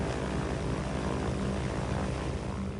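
A propeller airplane carrying an atomic clock drones in flight, a loud, constant, broadband engine and propeller roar with no pauses.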